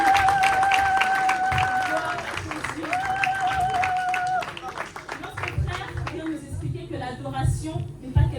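A church congregation applauds during a praise and worship service, a dense patter of clapping under sustained tones and voices that tapers off as talk continues.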